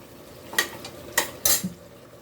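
A spoon stirs mutton rogan josh through a thick red masala in a pan, making three short scraping strokes against a soft, steady sizzle.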